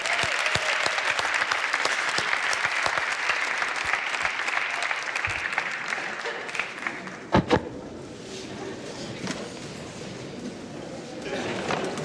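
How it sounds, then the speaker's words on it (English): An audience gives a big round of applause to a team after a floor performance, dense clapping that gradually thins and fades toward the end. "A big applause for them."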